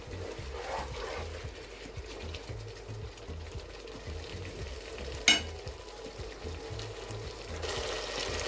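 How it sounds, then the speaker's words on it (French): Cameroonian beans seasoned with a little salt simmer on the fire, giving a steady low bubbling sizzle with soft stirring-like clicks and one brief sharp knock partway through. "Et on va laisser ça mijoter encore 5 minutes au feu."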